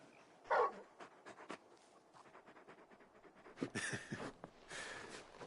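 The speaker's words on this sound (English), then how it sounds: "You're just a big puppy, aren't you? A very big puppy." The dog Torgal from Final Fantasy 16, close and fairly quiet, with rhythmic breathy panting broken by a few short whimpering yelps and soft rustling bursts.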